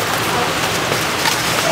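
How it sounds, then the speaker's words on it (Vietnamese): All-day rain keeps falling in a steady, dense hiss that fills the whole moment, with no breaks and no voices. The rain is light and persistent, close and evenly loud throughout. "Hôm nay trời mưa nguyên ngày luôn."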